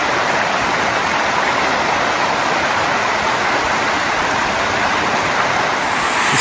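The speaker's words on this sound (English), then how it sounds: "You got this cool mini waterfall going into the lake." Small waterfall pours into Lake Superior as a steady, loud, broadband rush of falling water, unbroken and close throughout with no voices.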